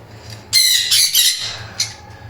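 Sun conure parrot giving several loud, harsh squawks in quick succession, close up, with a faint low hum underneath and no talking.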